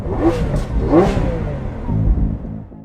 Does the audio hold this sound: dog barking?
no